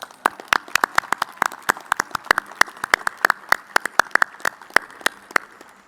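Scattered, distinct hand claps ring out at an Honors College celebration on the University of Arizona campus, a sparse irregular patter of individual claps rather than a full roar.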